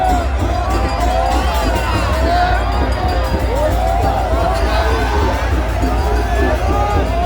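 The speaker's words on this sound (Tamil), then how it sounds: "எல்லோரும் கரகோஷம் அளித்தார்கள்" Crowd at the Tellippalai Durga Amman temple chariot festival as the chariot arrives, a loud, steady wash of cheering, shouts and babbling voices close by throughout.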